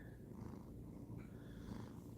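A contented pet cat purrs softly at close range indoors, a low, steady rumble pulsing gently with its breathing and continuing alone without any talk.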